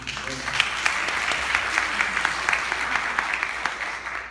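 A conference audience applauds steadily for about four seconds, a dense, even clatter of many hands with no break.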